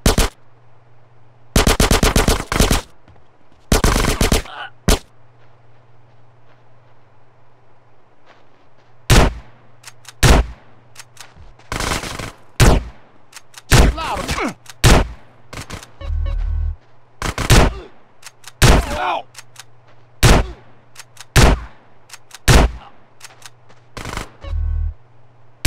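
Bursts of automatic gunfire from a gun in GTA San Andreas, loud and close, coming in rapid sustained volleys and shorter clusters over a low steady hum, with no talk.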